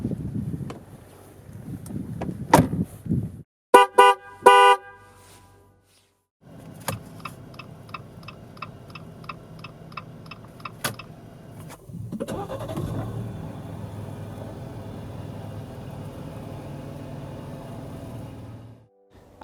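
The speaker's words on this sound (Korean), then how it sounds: "여기서 잠시 랭글러가 들려주는 소리를 들어볼까요?" A 2019 Jeep Wrangler Sahara with a 2.0-litre turbo engine: door and mechanical clicks and chimes, then the engine starting and settling into a steady idle, heard close with some wind noise and no talk.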